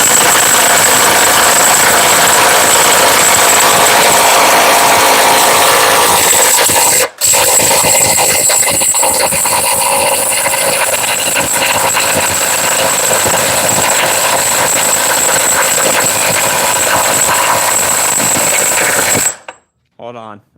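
A cordless power tool on a 4 amp hour battery runs in reverse with a loud, steady whine and grind that goes on for about twenty seconds, has a brief dropout partway through, and then cuts off.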